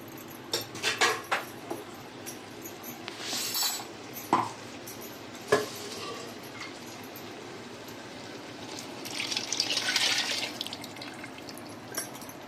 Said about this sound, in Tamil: இந்த தண்ணி எடுத்து அப்படியே சேர்த்துக்கலாம்.